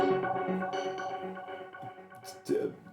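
An electric guitar plays through Soundtoys FilterFreak filters, and its sustained, sweeping filtered notes smear together. A sharper struck chord lands near the end, and the effects give a swirling, processed tone throughout.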